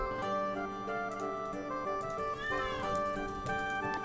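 House cat named Zeus meowing, several drawn-out meows up close, mixed with background game music.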